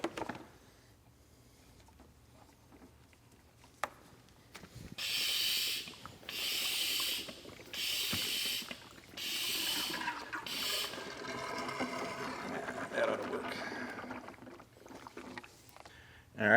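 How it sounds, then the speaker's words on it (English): A suction tool draws leftover coolant out of a hose on a 2011-or-later S197 Ford Mustang, giving several hissing, slurping bursts of a second or two each, close by and fairly quiet, followed by softer gurgling. "I'm going to get my suction tool, pull just a little bit more of that coolant out."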